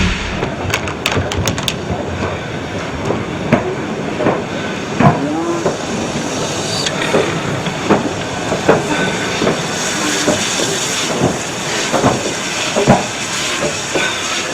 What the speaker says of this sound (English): Number 5, Hudswell Clark 1709 of 1939, was actually working on the day of the visit, moving the oil tankers down to the exchange sidings